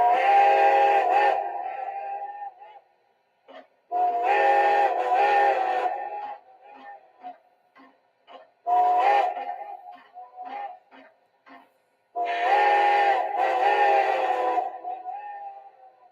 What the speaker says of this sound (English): that's going to initialize the ghost whistle sequence here